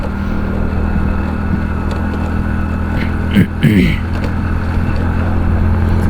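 A Hero Splendor motorcycle engine drones steadily while being ridden at 30 to 50 km/h, a constant low hum close by, briefly broken by a louder rising rev partway through, with talk over it.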